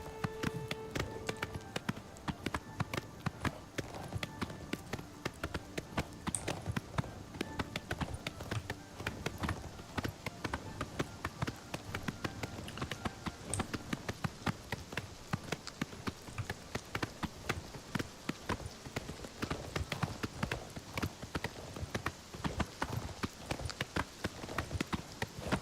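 Hooves of a stolen horse clip-clopping in a steady galloping rhythm in the video game Oblivion, fairly quiet and continuous, with a faint patter like rain underneath.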